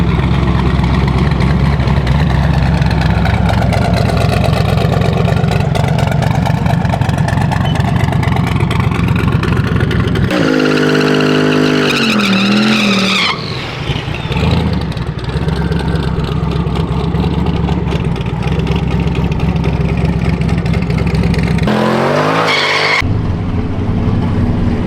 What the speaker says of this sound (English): So the motor hits so good.